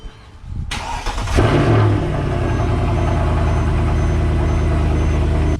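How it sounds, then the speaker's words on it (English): A Mercedes C63 AMG engine cranks briefly on a cold start and catches, then settles into a loud, steady idle that runs close by without interruption. "The cold start."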